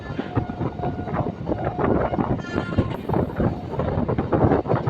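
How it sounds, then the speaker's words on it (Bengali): Loud, continuous rumble and clatter of a Lalgola–Sealdah MEMU commuter train rolling along the tracks, heard from inside a carriage, with rhythmic wheel knocks and rushing wind. "দু নম্বর লাইন দিয়ে আমাদের ট্রেন ছুটে চলেছে"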